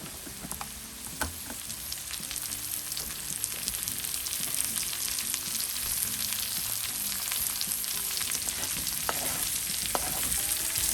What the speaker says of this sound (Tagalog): Ihalo na natin yung ating carrots.